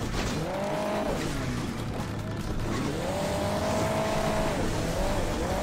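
Racing engine in the game Hill Climb Racing 2 as the car heads downhill, a steady loud motor with rising and falling pitch sweeps and brief tire squeals throughout.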